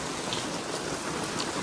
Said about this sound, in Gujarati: અત્યારે વાગ્યા પૂણા 9 અને વરસાદ ચાલુ થઈ ગયો.